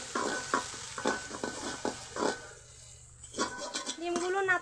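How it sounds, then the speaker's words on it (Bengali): Beaten egg with chopped onion, coriander leaves and green chilli sizzles and is stirred in a frying pan, with scraping stir strokes and a steady fry under a person talking throughout. "কিছুক্ষণ অপেক্ষা করে তারপর ডিম এভাবে নেড়ে দিব।"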